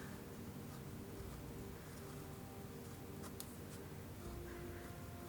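A BENU Euphoria fountain pen nib glides over paper with a soft, steady, slightly grippy scratch, quiet and close, continuing without pause and with no voices.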